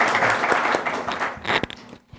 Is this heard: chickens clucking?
no